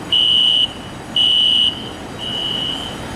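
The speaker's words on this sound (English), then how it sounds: "Fire alarm says bye-bye too." A building fire alarm sounds in three loud electronic tone bursts, each about half a second, with short gaps between them. The final burst is slightly softer and steadier. Nobody speaks.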